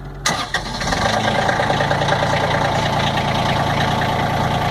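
A diesel engine starts after glow plug preheating: a sharp crank and catch, then a dense, steady running rumble that holds loud to the end.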